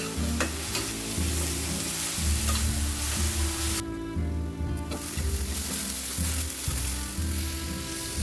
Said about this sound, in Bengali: পেঁয়াজটা ভালো করে কষে নিতে হবে যাতে পেঁয়াজের কাঁচা গন্ধটা ছেড়ে যায়।